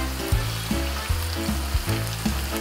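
Hen of the woods mushrooms cook in olive oil with a steady, close sizzle and crackle, broken by a few soft thumps as the pan is handled, with no talking.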